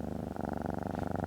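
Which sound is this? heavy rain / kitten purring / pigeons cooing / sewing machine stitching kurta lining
kitten purring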